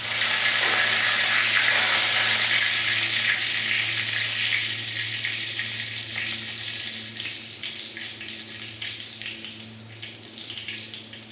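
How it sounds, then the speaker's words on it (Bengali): Cumin seeds and bay leaves frying in hot oil, giving a loud, continuous close sizzle that eases slightly over time, with no talk. "এই যে তেলের পরে একটু জিরে তেজপাতা ফোড়ন দিয়ে নেব"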